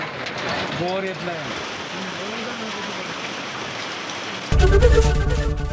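Unseasonal rain and hail in Dharwad, Karnataka fall in a steady, even hiss, with a few faint tonal calls early on and a sudden louder patter near the end.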